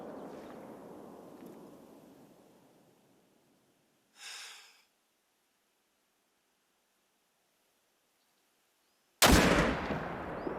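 An Eckers .30-06 rifle fired in the hunting game theHunter: Call of the Wild, a single sudden loud blast near the end followed by a brief decaying rumble, after a fading earlier rumble and a short burst of noise.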